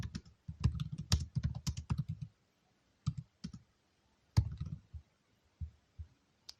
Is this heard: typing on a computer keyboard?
yes